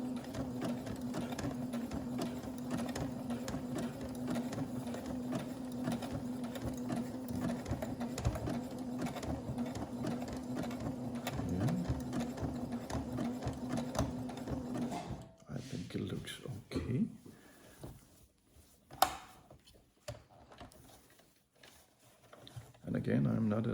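A sewing machine runs steadily while stitching a repair on old underwear, a continuous mechanical whir for about fifteen seconds, then stops and gives way to quieter handling noises and faint sounds.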